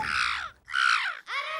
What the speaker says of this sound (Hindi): टोडले पे बैठ के वो कौवा कहाँ कहाँ कर रहा है